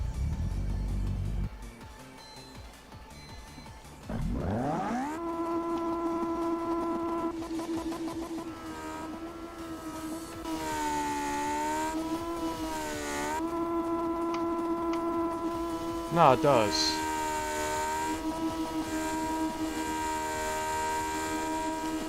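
A supercharged engine in a car-design video game revs hard, its tone climbing and falling through several sweeps toward a 9,500 RPM ceiling with a whining, droning character, close and steady, while a voice briefly speaks over it.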